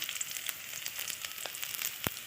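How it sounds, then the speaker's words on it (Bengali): Chopped onions and tempering spices sizzle steadily in hot oil for a shrimp and taro curry, a dense continuous crackle with a few sharper pops, close and clear with no talking. "দেখো পেঁয়াজ আর এই যে ফোড়নটা হালকা করে মানে ভালোই ভেজে নিয়েছি"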